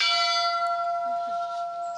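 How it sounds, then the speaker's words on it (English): A welcome bell at Hemingway's house in Cuba rings out with a single clear strike, and its bright metallic tone hangs and slowly fades. "he used to ring the bell to say welcome."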